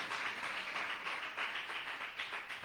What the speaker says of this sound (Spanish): Fuerte ese aplauso para Jesús.